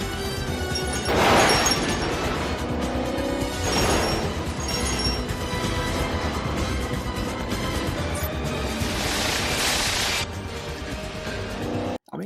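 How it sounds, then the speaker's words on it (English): A remote-controlled car escape in the James Bond film Tomorrow Never Dies: loud engine revving and passing vehicles, broken by repeated crashes and bursts of impact, with a dense action-scene mix throughout. "this scene where Bond has to escape a bunch of Carver's goons with a remote-controlled car."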